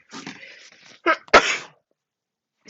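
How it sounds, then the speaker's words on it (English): A single sharp human sneeze bursts out after a short stretch of breathy, hesitant vocal sounds, close and fairly loud, then silence follows. "oh, I'm gonna sneeze."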